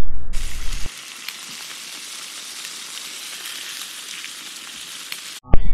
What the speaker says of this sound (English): burger cooking on grill